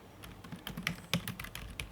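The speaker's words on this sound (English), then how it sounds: "So let's type it" Quick, light keystrokes typing resume details on a computer keyboard, an irregular patter of clicks, close and quiet.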